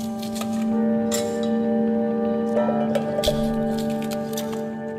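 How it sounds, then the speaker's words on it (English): Green beans or similar vegetables are snapped in half by hand, stem and tip broken off, giving a few sharp crisp cracks over a steady hum in a kitchen setting. "once to take off the stem, once to take off the tip, and once to break them in half"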